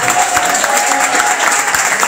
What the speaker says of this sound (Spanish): quiero un aplauso para la gente que pinte, para Claudio, para toda la gente de acá